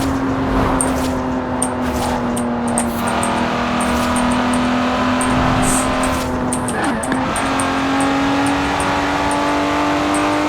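Racing car engine in the Forza Horizon 4 video game holds a steady, loud drone throughout, with a brief dip and shift in pitch midway suggesting a gear change, alone without talk.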